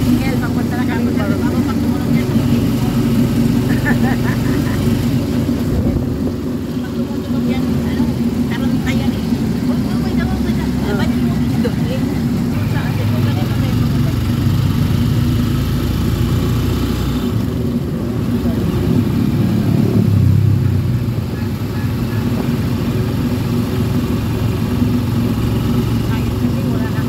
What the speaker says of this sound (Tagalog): Yan, nakasakay kami sa tricycle.